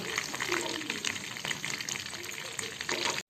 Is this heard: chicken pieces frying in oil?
yes